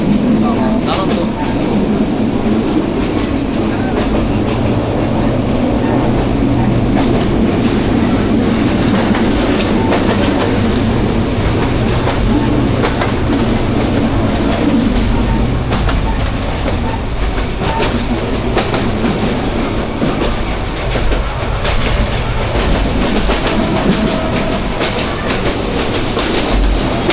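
The Burimari Express running on rails, a continuous loud low rumble and rattle heard from inside the carriage for the whole stretch, with voices faintly mixed in.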